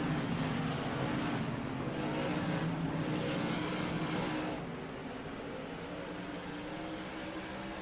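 Modified stock cars race at Stafford Motor Speedway, a dense, continuous engine roar of several cars at once, loud and steady before easing somewhat toward the end as the field slows under caution.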